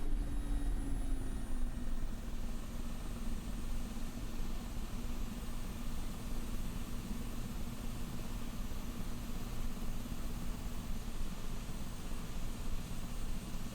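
A Mi-24 Hind helicopter engine in DCS spools down, its turbine whine sliding lower in the first couple of seconds before settling into a steady, loud rotor and engine drone.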